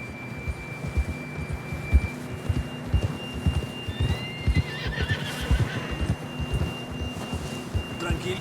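Horse whinnying and hooves clip-clopping at a gallop in the Red Dead Redemption 2 video game, with a steady hoofbeat rhythm under ambient game sound and a few short chirping tones midway.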